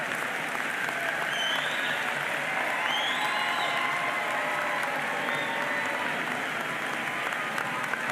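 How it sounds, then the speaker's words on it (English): Sustained applause from a large crowd at a college commencement ceremony, steady and dense throughout, with a few whistles rising above the clapping. "give them a round of applause"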